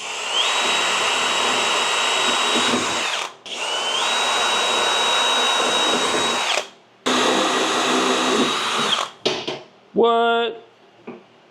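A Kobalt power drill whines loudly and steadily in three long bursts in a workshop, with short pauses between, then a brief rattling clatter near the end.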